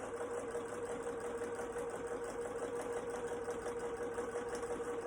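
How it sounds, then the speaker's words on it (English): A domestic sewing machine runs steadily, stitching the seam of a fabric face covering with a constant mechanical whir and fine rapid needle ticking, close and continuous throughout with no talking. "Stop with the needle down, lift and pivot, 1 more stitch."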